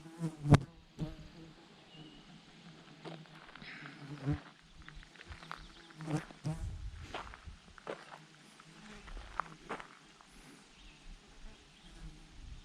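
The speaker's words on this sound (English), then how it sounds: "You guys hear the horse flies and deer flies buzzing around?" Horse flies and deer flies buzz intermittently around the listener, faint whining passes coming and going, with occasional footsteps and rustling outdoors.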